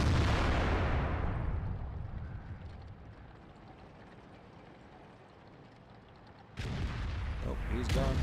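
Artillery fire in World of Tanks: a heavy booming shot that rumbles away over several seconds, then a second loud blast near the end.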